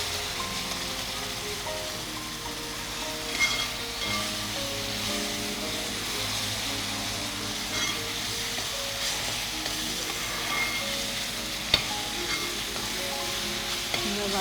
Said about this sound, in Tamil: வெங்காயம், கருவேப்பிலை எல்லாம் போட்டு நல்ல மணமா இருக்கான்ட்டு நல்லா எல்லாம் வதங்கி ஒண்ணா வரணும்